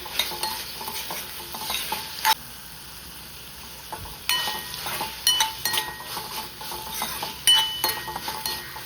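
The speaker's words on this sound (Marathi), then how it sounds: "आता मिक्स करून घेऊ आपण सगळ्या भाजीमध्ये" A spoon scrapes and clinks against a pan as vegetables with melted jaggery are stirred, irregular knocks and scrapes over a soft sizzle, with a brief quieter pause midway.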